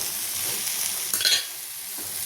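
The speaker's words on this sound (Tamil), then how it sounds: "மசாலையை சேர்த்து இதையும் நல்லா கிண்டி விடுவோம்" A spoon stirs masala powder into vegetables frying in a pan for a Tamil kootu curry, scraping and sizzling steadily, with a brief louder stir-and-spatter burst in the middle and no voices.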